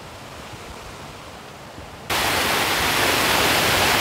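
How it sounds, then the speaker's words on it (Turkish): Strong water rushing beside a lake in a snowy winter campsite, a broad steady hiss that suddenly jumps louder partway through and stays loud, with no one speaking. "Abi su çok acayip akıyor ya."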